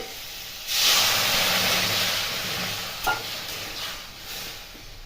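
Water splashes into a hot pan of kul (jujube) chutney with turmeric, setting off a sudden loud sizzling hiss that slowly settles into a steady, softer bubbling fizz, with a brief clatter midway.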